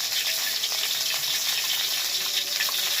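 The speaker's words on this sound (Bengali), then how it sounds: "এই দেখো এখানে ফুলকপি ভাজা হচ্ছে" Cauliflower florets frying in oil in a pan for a vegetarian potato-cauliflower dish, giving a steady, close hiss of sizzling with small crackles throughout and no talk.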